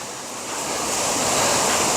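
A river waterfall roars behind the listener, a broad continuous rushing wash that swells slightly louder, with wind buffeting the microphone.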